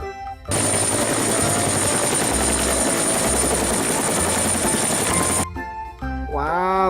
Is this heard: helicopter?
yes